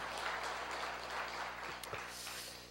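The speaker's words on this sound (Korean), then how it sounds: "성가대를 위해서 박수를 한번 치겠습니다" A congregation claps steadily for the choir in a large church, a continuous dense patter of applause that fades slightly toward the end.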